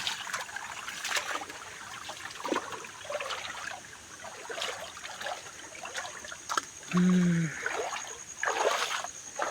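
Water trickles and splashes steadily through a dammed irrigation channel beside an orchard, a close, continuous flow with a brief louder gurgle near the end.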